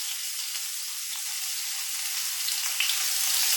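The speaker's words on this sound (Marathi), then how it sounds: "तेल आपलं गरम झालेलं आहे, त्यामध्ये जिरं घालूया, कांदा घालूया चिरलेला" Cumin seeds and chopped onion fry in hot oil for a homemade methi matar malai, giving a steady, close, bright sizzle that hisses on without pause and rises slightly near the end.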